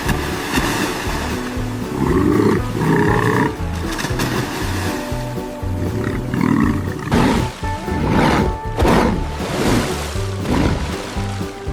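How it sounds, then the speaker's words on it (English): A hippopotamus roars and gasps for air: deep, loud, rumbling bellows come in repeated bursts over a steady wash of water, the calls swelling and fading across the whole stretch. "The resounding roars, the menacing gasps for air"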